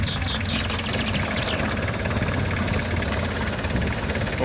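Two DF 404 and Scout TY404 tractors pulling against each other in a tug-of-war give a loud, continuous diesel engine drone, heavy and steady throughout, close by with strained rumbling.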